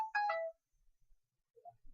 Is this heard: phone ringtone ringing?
yes